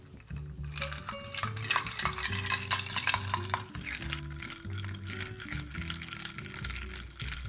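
Caipirinha being stirred, a close spoon clinking and scraping against glass and ice in an irregular rhythm over a low background hum.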